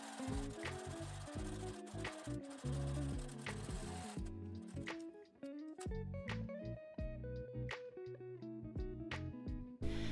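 A sewing machine topstitching a jumper skirt 4 to 5 mm from the edge, running in quick bursts of rapid stitching with brief stops and clicks between runs.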